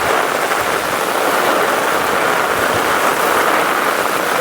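Heavy monsoon downpour on a farm in the Konkan region, a dense, loud, unbroken hiss of pouring rain with no pauses.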